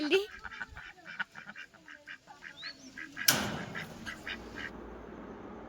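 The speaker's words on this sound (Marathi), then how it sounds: "किती छान बदकायत बघा" Ducks quack in a quick repeated series close by, then a burst of splashing or rustling noise follows.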